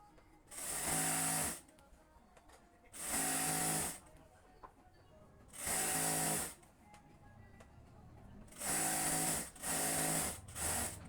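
An electric sewing machine stitching petticoat fabric, running in five loud, steady whirring bursts separated by short quiet pauses, the last two close together.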